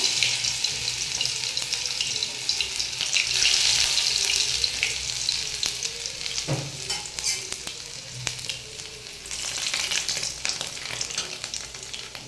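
Steady oily sizzling from chopped ginger frying in oil in a wok, with occasional stirring scrapes and clicks, close and continuous.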